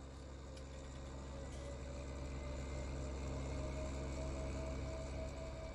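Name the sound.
video game tractor engine idling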